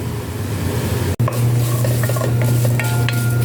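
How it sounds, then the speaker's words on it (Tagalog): Onion and garlic sauté in their own oil as a loud, dense sizzle fills the clip, cut by one sudden short break, followed by stirring clinks and scrapes close at hand. "ilalagay ko na po itong sibuyas at bawang. Pakukulan muna natin siya sa sarili niyang mantika"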